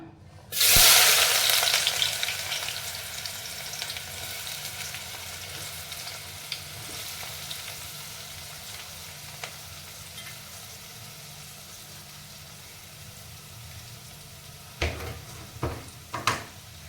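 Sliced onions drop into hot oil for a mutton and cucumber curry, setting off a loud, bright sizzle that slowly settles into steady frying, with a few clatters of a utensil on the pan near the end.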